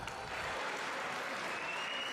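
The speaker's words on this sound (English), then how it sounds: "Fans are clapping." Wrestling fans at a live match clap together, a dense, steady wash of applause from a crowd, moderately distant and without voices over it.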